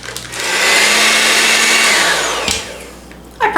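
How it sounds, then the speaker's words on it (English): An electric mixer beats one cup of sugar with half a cup of softened salted butter, a loud steady whir that holds for about two seconds, winds down and ends with a few knocks. "we're going to beat the butter and sugar together for a few minutes, 2 to 3 minutes"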